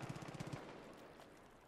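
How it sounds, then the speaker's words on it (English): Gunfire in the Far Cry 5 shooter, heard far off: a quick, faint run of about a dozen rapid shots in the first half-second, then low, quiet ambient noise. "Who are they shooting at?"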